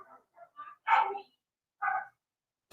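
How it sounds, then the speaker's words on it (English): Several dogs, a terrier and a Rottweiler among them, bark indoors in short scattered bursts at moderate distance, with quiet gaps between barks and no voices. "Sorry, the dogs are barking."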